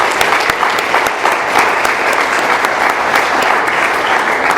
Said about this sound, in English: Let's give one more round of applause for Brett.